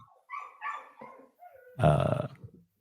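A dog barks close by in a short burst: a few quick yips and then one loud, harsh bark with a growl behind it, and no talking.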